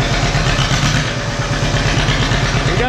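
A John Deere 50 tractor with a fresh intake and a new exhaust pipe runs close by, its engine chugging in a loud, even, rapid putt-putt rhythm.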